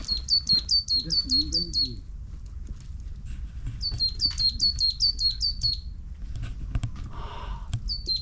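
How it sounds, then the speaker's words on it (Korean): Small birds in a mountain forest near Boriam on Geumsan in Namhae give rapid, high chirping trills in several bursts, clear and fairly close over quiet background rustling. "산속을 다니면서 새소리는 늘 자주 듣지만 그 실체를 파악하긴 정말 쉽지 않았었다"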